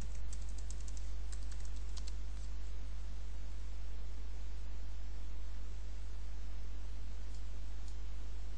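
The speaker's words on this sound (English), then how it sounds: "type in your password" Password typed on a computer keyboard during a software install: a quick burst of light key clicks at the start, then a few sparse taps, all over a loud steady electrical hum.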